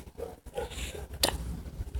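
A pig in a video game grunts and oinks in several short nasal bursts, close and moderately loud, with a fan humming underneath.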